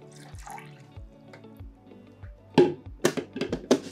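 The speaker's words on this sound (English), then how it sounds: "refill the tank with fresh water" Fresh water splashes and drips into the water tank of a Dualit Espressivo Pro coffee machine after descaling, starting as faint trickles and swelling into several louder close splashes near the end.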